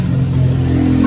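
A Honda Supra motorcycle engine hums steadily at a close, loud, low idle while its leaking exhaust is being packed and repaired.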